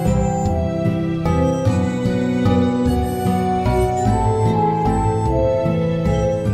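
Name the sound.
crystal baschet psychedelic sound in a Slime Rancher music theme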